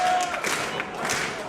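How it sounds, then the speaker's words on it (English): A wrestling crowd at a college event cheers and applauds steadily, a dense, fairly loud wash of clapping and voices with no break. "And the crowd comes alive."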